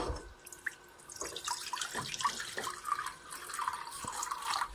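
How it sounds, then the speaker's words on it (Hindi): Water splashes and gurgles into a pot for Maggi noodles, a steady close pour with drips and sloshing throughout and no talk. "पहले इसमें डालो इसे पानी"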